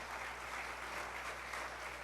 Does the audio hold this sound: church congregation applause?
yes